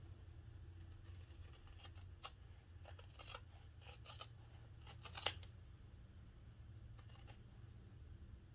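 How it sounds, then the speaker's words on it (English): Scissors trim the fabric seam allowance on a sewing project, making a series of faint, crisp snips spaced a second or so apart over a low steady hum, close but quiet. "Now I'm going to trim the seam allowance"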